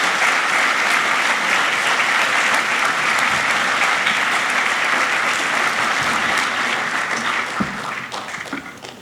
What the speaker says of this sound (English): Please join me in a round of applause to recognize these college officers.